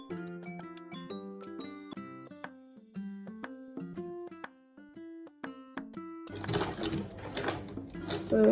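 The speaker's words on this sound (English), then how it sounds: "I'm sewing from here all the way to this place." A sewing machine stitching an Ankara and denim bag along a pocket edge, playing with music-like tonal notes for about six seconds before a louder burst of dense, noisy machine clatter takes over.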